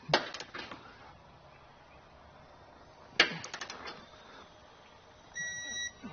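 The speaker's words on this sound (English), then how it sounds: "go through and torque down all your hardware" Torque wrench tightening trailer hitch hardware on a 2023 Honda Passport: two bursts of rapid ratcheting clicks, close and sharp, then a short ringing tone near the end.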